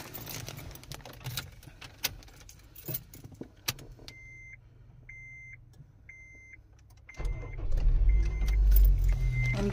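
Someone gets into a car: keys jingle and doors and seats clunk, a repeated electronic chime pulses for a few seconds, then a louder low rumble of the car's interior swells toward the end.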